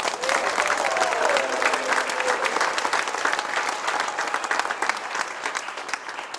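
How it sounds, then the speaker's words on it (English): A round of applause from a group of participants at a team day, dense steady clapping filling the whole stretch, fairly close and loud, tapering slightly toward the end. "So a big round of applause for yourselves"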